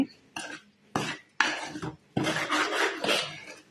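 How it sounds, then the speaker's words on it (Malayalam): Amrutham powder roasting in a pan over a low flame is stirred in short scraping bursts with small gaps between strokes. "തീ ലോ ഫ്ലെയിമിൽ വെച്ചിട്ട് വേണം ഇത് വറുത്തെടുക്കാൻ"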